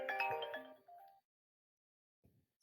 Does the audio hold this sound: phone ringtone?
yes